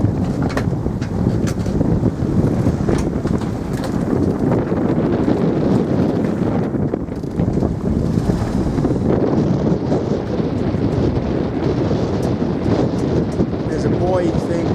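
Gale-force wind gusts buffet a small sailing boat on a rough, choppy sea, a steady loud roar of wind noise across the microphone throughout, with someone talking over it.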